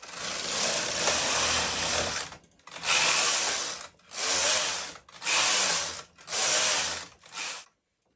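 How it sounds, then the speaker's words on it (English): A knitting machine carriage is pushed back and forth through rows of waste yarn, each pass a loud, rattling mechanical rasp lasting about a second, repeated five or six times with short silent breaks between them. "So I'm just going to knit a few rows here with waste yarn."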